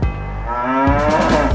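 A single cow lets out a long, low moo, close and steady, with the pitch lifting slightly near the end, heard on its own.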